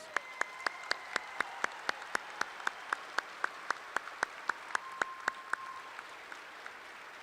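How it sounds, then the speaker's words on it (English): Slow, evenly spaced claps from a small audience at a 2025 high school graduation ceremony, honoring the senior choir, each clap sharp and distinct against a quiet hall, thinning out toward the end. "Let's give another big round of applause for all of our senior choir members."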